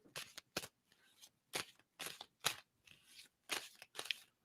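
Tarot cards are shuffled in about nine quick, crisp riffling bursts separated by brief pauses, close and fairly quiet.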